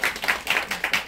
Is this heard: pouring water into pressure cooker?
no